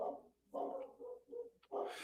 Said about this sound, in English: you got your dogs outside barking at every damn breeze that blows